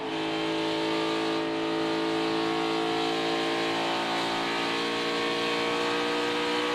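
NASCAR Cup Series cars racing at Homestead: a continuous loud, droning roar of V8 engines at full throttle, steady and close with a layered pitch, no voices over it.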